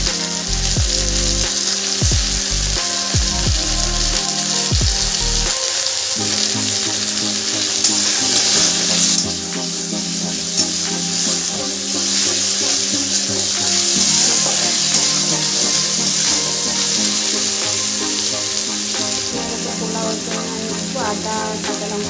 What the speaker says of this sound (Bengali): গাজর, ক্যাপসিকাম আর বিনসটা একটু ভেজে নিচ্ছি।